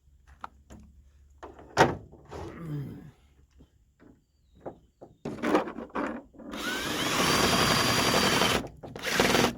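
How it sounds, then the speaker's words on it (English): A power drill with a bent bit is used on a Ford F150 pickup's sunroof, with scattered clicks and handling knocks before a sustained grinding whir near the end. "That drill bit's bent. Let's get something different."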